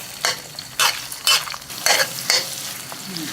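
Beaten eggs fry and are stirred in a hot pan for a Thai Isan shrimp-and-egg stir-fry, with four or five loud scraping stirs breaking through a steady close sizzle, and no talking.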